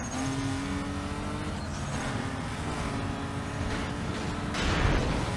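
Car engine revving and accelerating through a drag race in Need for Speed Most Wanted (2005), a loud continuous roar rising in pitch with gear changes and swelling near the end, with no talk.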